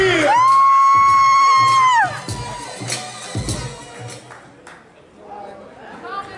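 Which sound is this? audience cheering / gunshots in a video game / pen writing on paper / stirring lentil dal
audience cheering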